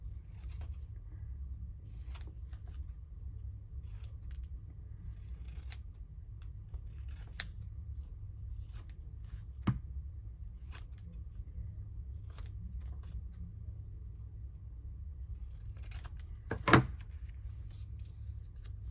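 Scissors snip out paper ephemera during a crafting session, scattered quiet cuts over a steady low hum, with one sharper snip near the end.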